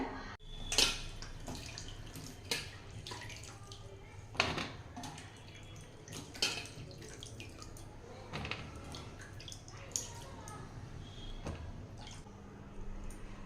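About 200 grams of mushrooms are washed in water, with scattered close drips, splashes and squishy handling sounds over a low background.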